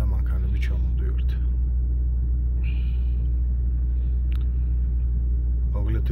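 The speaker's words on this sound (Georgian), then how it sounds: "ხო, და ეხლა ნელ-ნელა მანქანები ჩამოვდივართ" Off-road cars roll slowly down a slope at Didgori, with a steady low engine rumble that stays close and constant throughout. People talk over it now and then.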